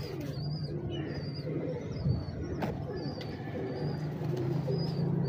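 Breeder pigeons in a loft in Lahore coo in low, repeated soft rolls, with faint chirps and rustling in the background; the cooing stays close and steady throughout.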